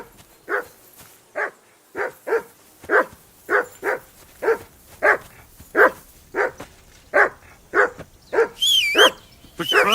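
A dog barks over and over in a video game, loud, close and steady, with a high whining tone rising near the end.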